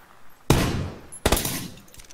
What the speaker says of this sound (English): A sniper just shot at our building.